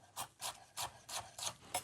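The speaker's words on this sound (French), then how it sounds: "On taille l'oignon en deux et on va venir l'effeuiller." Kitchen knife slicing an onion into a fine julienne on a board, six even, soft rasping strokes at a steady rhythm, close and quiet with no talk.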